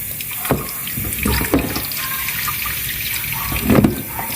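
Tap water runs steadily over cooked spaghetti in a colander, a continuous splashing rush broken by a few louder clunks and spatters, with no voices.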